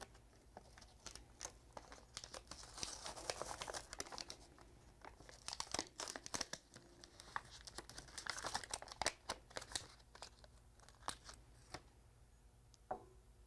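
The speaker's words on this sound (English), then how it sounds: "peeling away gently." LaserMPrints heat transfer paper is slowly peeled away from an uncoated tile, giving close, intermittent crinkling and tearing crackles in bursts over several seconds.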